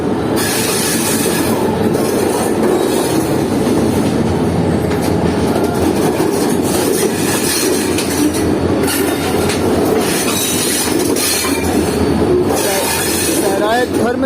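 The Sir Syed Express rumbles past loudly and close, wheels clattering and squealing in a continuous roar across the whole stretch.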